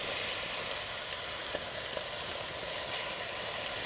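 Spinach paste frying with turmeric in a pan, giving a steady, close, even sizzle that runs the whole time with no talking.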